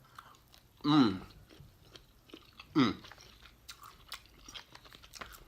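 Grilled shrimp dipped in cocktail sauce from an Applebee's delivery dinner is eaten close to the microphone, with two distinct loud bites and chewing followed by quieter mastication.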